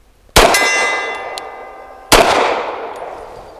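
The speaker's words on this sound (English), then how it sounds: "I'm going to shoot the stuff, 2 rounds of each at the steel" Two sharp pistol shots with ringing steel-target clangs at 35-40 yards, spaced about two seconds apart, each followed by a long metallic decay.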